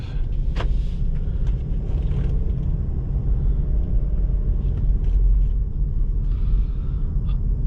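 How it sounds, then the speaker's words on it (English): A 2021 Subaru Forester Touring driving on the road, with steady low engine and road rumble running throughout and a few brief knocks and clicks, no talking. "let's head out and take a Subaru on a drive."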